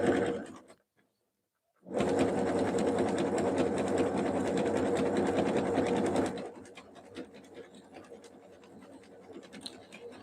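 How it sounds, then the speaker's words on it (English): A sewing machine running a zigzag stitch on a jelly roll fabric rug whirs in a steady, close buzz for several seconds after a brief pause, then drops to quieter clicks and handling sounds. "we started with a straight stitch again to get the thread started, and now we're back on the zigzag"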